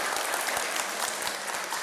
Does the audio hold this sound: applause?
yes